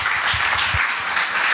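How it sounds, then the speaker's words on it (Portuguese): Church congregation applauding together, a steady wash of clapping from many hands at moderate loudness, with a few heavier low thumps early on. "Dá uma salva de palmas para ela"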